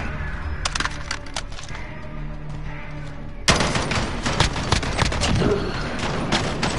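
Shotgun blasts in a multiplayer Modern Warfare shooter match: sharp repeated cracks, sparse at first, then a louder, denser volley of shots firing close together.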